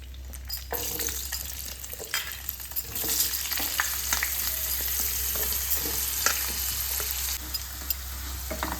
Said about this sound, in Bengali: এবার আমি এই তেলে আলুগুলোকে ভেজে নেব।